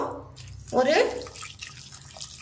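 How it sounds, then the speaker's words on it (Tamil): Water is poured into a pan with tomato bajji ingredients, a short close splashing gush lasting about a second, quickly fading into quieter trickles. "ஒரு டம்ளர் அளவுக்கு தண்ணி சேர்த்துக்கலாம்."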